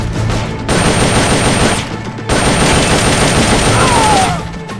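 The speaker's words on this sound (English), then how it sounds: "I heard gunfire!" Loud, dense automatic gunfire in Metal Gear Solid Peace Walker, two long sustained bursts separated by a brief pause, close and continuous.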